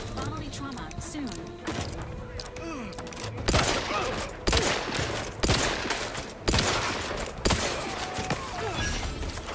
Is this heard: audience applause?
no